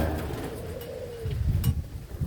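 A spotted dove (tekukur) coos at a breeding farm, a soft low call repeated a few times over faint background noise.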